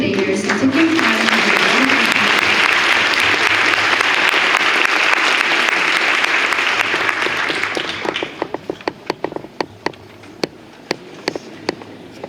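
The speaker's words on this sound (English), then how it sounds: "let's give a round of applause to all the debaters who took their time" An audience applauds the debaters at a model debate, with sustained dense clapping for about eight seconds before it thins out into scattered individual claps.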